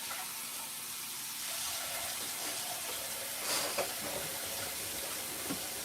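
Tap water runs steadily into a kitchen sink for a rinse during breakfast prep, a constant hiss. A few faint clinks and splashes stand out briefly near the middle.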